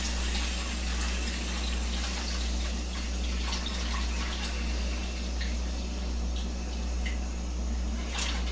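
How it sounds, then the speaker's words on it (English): Water running steadily into a pot of potato and root vegetable soup with ham and mushrooms, a continuous close pouring rush over a low hum, with no talk. "Now I'm going to add water."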